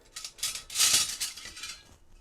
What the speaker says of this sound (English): Right, I'm just going to get rid of all this cutlery.